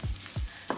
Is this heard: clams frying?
yes